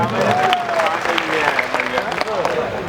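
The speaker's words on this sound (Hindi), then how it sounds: "सभी लोग मिल के पहले हमारे 2 भाइयों का एक जोरदार तालियां स्वागत कर दीजिए" Audience applause at a Bhojpuri stage show welcoming two performers: a continuous burst of crowd clapping under a loud announcer's voice over the sound system.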